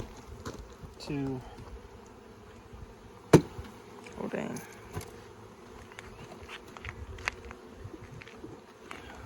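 Honey bees around a hive being fed sugar water while a honey super is added, buzzing in scattered passes near and far over a quiet background, with a brief exclamation from a man and a few knocks.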